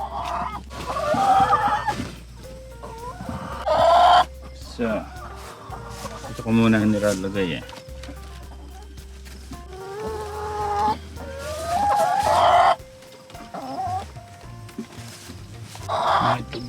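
Chickens clucking and a rooster crowing on a farm during egg gathering, repeated calls near and loud, with a person talking over them and a low steady hum underneath.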